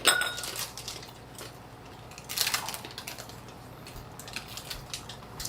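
Crystal whiskey glasses, an Avency Wave and a Neat glass, clink and knock against each other in a few bright, close taps, one cluster at the start and another a couple of seconds later, with no talk.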